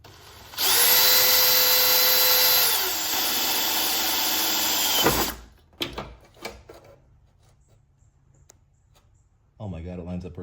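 Power drill boring a hole during installation of an oil cooler on a Nissan 370Z, a loud sustained whine lasting about five seconds with a pitch drop midway, followed by scattered clunks and handling noises and a brief closing burst.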